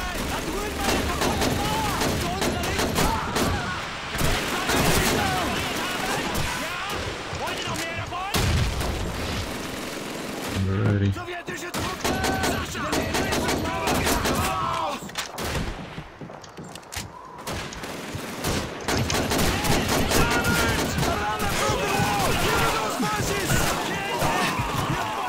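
Heavy gunfire in the Russian campaign of Call of Duty 2 on PC, with rapid bursts and booming shots that continue almost without pause, plus occasional explosions and shouting voices mixed into the battle.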